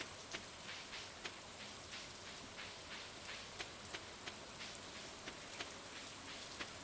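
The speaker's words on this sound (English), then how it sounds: "I like rainy days like this" Steady rain falls in the farming game Stardew Valley, a soft even hiss with scattered light droplet ticks, fairly quiet and continuous with no voices.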